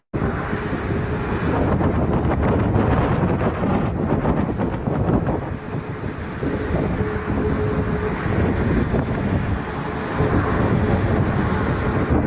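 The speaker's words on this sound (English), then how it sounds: "this video captured it gushing fuel all over the runway as it became airborne" A jet aircraft takes off from a runway while fuel gushes from it, a loud, steady engine roar thick with wind buffeting and no voices over it.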